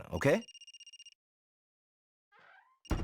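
Phone ringing in the video game Another Code Recollection, a bright electronic trill that pulses rapidly then stops, returning briefly after a pause; a voice speaks just before the ring.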